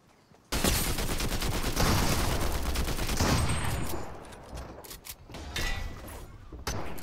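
A new assault rifle in the video game Fortnite fires a sustained, loud burst of rapid shots for several seconds, then tapers into scattered single shots and impacts.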